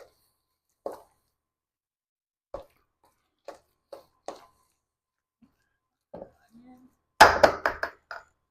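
Potato salad with mayonnaise being mixed in a bowl, with soft wet plops and squelches at spaced intervals, then a denser run of louder mixing sounds near the end.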